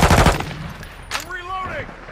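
Automatic gunfire in Modern Warfare II, loud sustained bursts up front, then a short gap, a single sharp shot and rising whine-like effects trailing off under game ambience.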